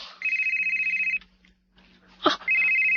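A telephone rings in two bursts of rapid, trilling electronic tones, loud and near, with a short pause and a sharp knock or bump between them.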